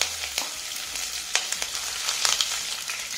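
Green chillies hit about three tablespoons of hot oil with mustard seeds and cumin for masala upma, giving a steady close sizzle sprinkled with sharp crackles and pops, with no talking.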